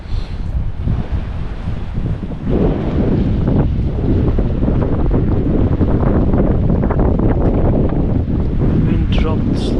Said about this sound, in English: Wind dropped slightly,